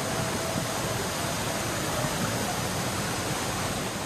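Saingong waterfall pours in a steady, even broadband rush that stays constant throughout, heard from a moderate distance with no voices.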